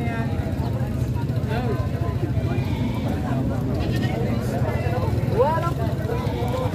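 Goats at a livestock market in Padre Garcia, Batangas, give a few scattered, wavering bleats over a constant murmur of people talking and market bustle.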